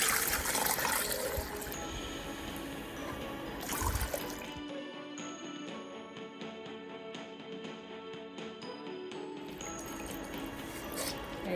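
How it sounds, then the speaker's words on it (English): A spicy millet drink is poured and strained through a sieve cloth, with liquid splashing and trickling. The sound is loud at first, then drops to a quiet dribble with faint clinks, and the splashing returns near the end. "We'll strain with the sieve cloth."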